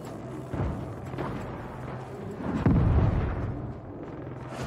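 Cannon fire in the Saints Row video game (2022), with heavy booming blasts: one burst early on and a louder, deeper explosion near the middle, over a rumbling game soundscape.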